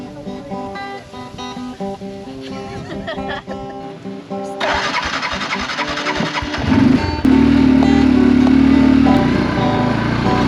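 Neglected Yamaha ATV engine with blow-by and backfiring, running loudly close by, rough and uneven at first, then settling into a steady, louder drone toward the end.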